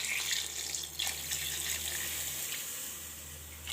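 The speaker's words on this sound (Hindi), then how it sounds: "ये तकरीबन हमारा 1 लीटर के करीब इसमें पानी गया है।" Water pours steadily from a tap into a cooking pot for chicken kofta, a constant close rushing splash with no talk.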